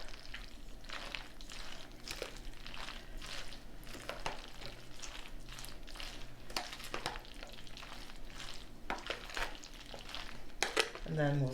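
Salad gets tossed and mixed with pepper, giving irregular soft scraping, stirring and utensil clatter against a bowl, fairly quiet and ongoing, with faint background sound.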